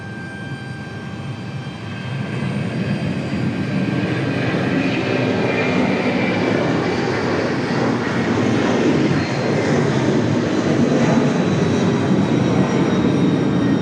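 A jet airliner roars loudly and continuously while departing Raleigh-Durham International Airport, its engine rumble and broad rushing hiss building slightly and holding steady the whole time.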